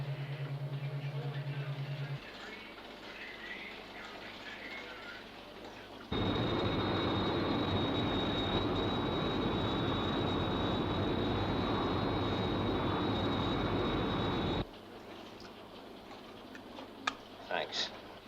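The Sky 1 interceptor aircraft from SHADO UFO gives a loud, steady engine roar that holds for about eight seconds, with a high whine over it. Radio voices talk before and after the roar.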